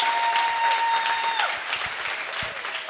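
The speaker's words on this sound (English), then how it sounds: "Let's just give them another round of applause" Congregation applause at a church worship service, a steady, dense wash of clapping filling the whole stretch at close range, with a few scattered louder claps and no talk over it.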